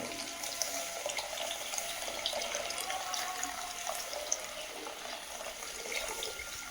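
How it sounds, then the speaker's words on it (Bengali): Water poured into a pot of cooking dal, a steady bright trickling stream running without pause, close and fairly quiet. "ডালটার মধ্যে আর একটু জলও দিয়ে দেবো, পাতলা করবো ডাল"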